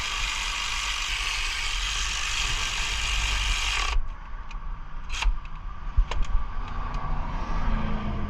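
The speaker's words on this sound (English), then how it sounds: "Go ahead and grab your 12mm and button them down." A ratchet with a 12mm socket tightens bolts during AC compressor replacement on a 2002-2008 Pontiac Vibe, a loud continuous whirring rasp giving way to scattered close metallic clicks and clanks in a garage.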